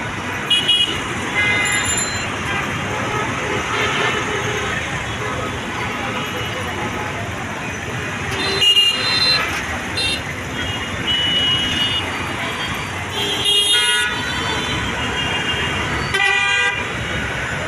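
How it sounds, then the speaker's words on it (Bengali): Road traffic on Dhaka's Bishwa Road, with hired motorbikes and assorted vehicles passing. A steady roadway rumble carries repeated horn toots of varying pitch, some near and some farther off, spread through the whole stretch. "দিন দিন বেড়েই চলেছে ভাড়ায় চালিত হোন্ডা এবং বিভিন্ন রকম যানবাহন রয়েছে রাস্তায়"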